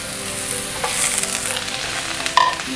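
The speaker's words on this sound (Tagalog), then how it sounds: "haluin lang natin ng ganyan hanggang mag-caramelize or mag-translucent yung ating onion" Onion and garlic with a pinch of salt sauté in a pan, a steady close sizzle with scraping stirs and a sharper clatter near the end, no talk.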